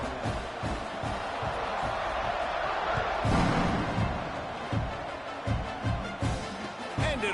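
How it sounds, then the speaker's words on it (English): Stadium crowd at a football game buzzing after a touchdown and extra point, a dense roar of many voices with thumps and swells, under steady commentary. "this crowd is buzzing after that last score"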